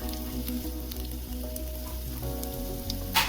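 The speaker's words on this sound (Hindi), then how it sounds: "तो चलिए अब डाल देते हैं बारीक कटा हुआ लहसुन" Finely chopped garlic frying in hot mustard oil, a steady close sizzle that runs without a break, with a brief stirring scrape near the end.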